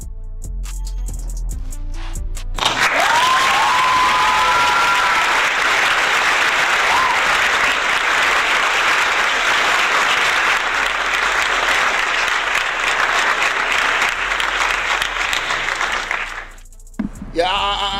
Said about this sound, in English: Can we afford a round of applause?